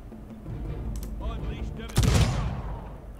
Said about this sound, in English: And then we'll hit them with the mortar as well.